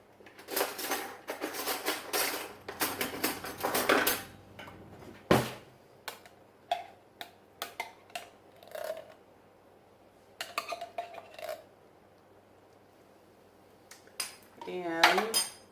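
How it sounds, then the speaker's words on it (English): Metal cutlery and pots clatter in a home kitchen while someone fetches a spoon to scrape thick homemade chili from the bottom of the pot: a dense, busy run of clinks, then scattered single knocks and clicks, close and fairly loud. "I'm going to have to get a spoon"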